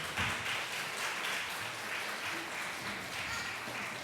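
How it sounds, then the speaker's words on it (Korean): A church congregation applauding to welcome children and young people forward during a Sunday worship service, a steady, diffuse wash of clapping from a large room with some voices mixed in. "우리 박수로 환영하겠습니다"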